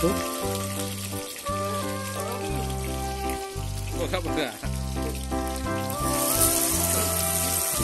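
Chopped onions frying in hot oil in a kadai over a chuli clay stove for a desi chicken curry: a steady soft sizzle beneath loud rhythmic background music, growing brighter near the end.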